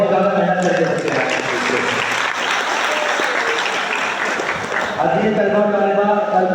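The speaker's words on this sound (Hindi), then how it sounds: "और जोरदार तालियों से रुखसत करें" Loud, sustained applause from a school audience at a Pakistan Independence Day event fills the whole stretch, dense and steady, with voices faintly audible underneath.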